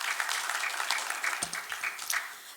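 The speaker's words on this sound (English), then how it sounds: "So give yourselves a round of applause." An audience at a commission meeting claps steadily in a dense, even patter of many hands, close and sustained with no speech.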